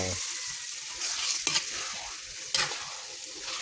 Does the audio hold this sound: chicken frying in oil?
yes